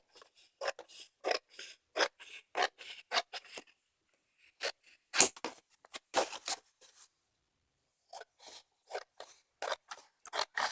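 Scissors cutting through paper for a 6x6 mini scrapbook album, a series of crisp close snips in quick bursts with a pause midway, no talking.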